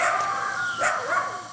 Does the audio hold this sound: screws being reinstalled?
no